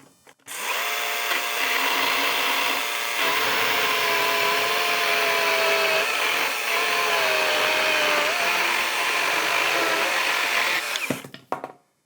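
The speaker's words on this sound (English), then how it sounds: "I'm gonna cut through. This is a 6x12 pressure treated hemlock." An electric chainsaw cuts through a 6x12 pressure treated hemlock beam, a loud, steady whining roar that holds for about ten seconds before cutting off abruptly, with no talking over it.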